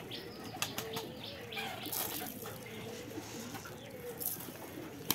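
Pigeons on an open rooftop flap their wings in several sharp bursts over a low background murmur of cooing and other bird sounds, close by, with a voice faintly present.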